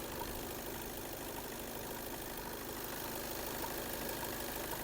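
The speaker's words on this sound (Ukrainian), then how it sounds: "під капотом у нас порядочок, демпфера не чути, моторчик працює рівненько." A 2019 Skoda Octavia A7 engine idles evenly and steadily under the hood, a constant mechanical hum with no change in pace.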